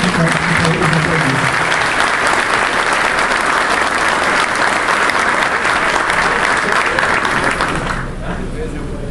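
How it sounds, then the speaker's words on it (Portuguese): Loud, dense applause fills a hall at a national meeting of traffic agents, sustained for several seconds before easing off near the end. "Vocês merecem palmas tanto por nós aqui presentes também."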